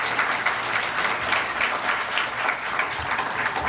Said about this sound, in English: So I wish she was in the room to hear this applause for her